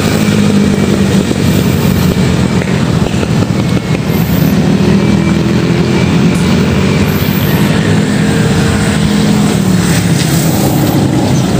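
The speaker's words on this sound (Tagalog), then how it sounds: "Daming helicopter." Helicopters flying overhead during a morning outing around a park and municipal hall in Cavite City, giving a loud, steady engine and rotor roar that fills the whole stretch without talk.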